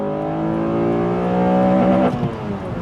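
A Honda Accord Euro R engine revs hard under full throttle, rising in pitch in a loud, close, steady climb before easing off near the end, with no talking.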